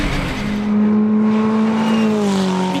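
A Ferrari 488 race car at speed on the Dijon-Prenois circuit gives off a sustained engine drone whose pitch climbs and then eases off as it passes, loud and close, with no one talking.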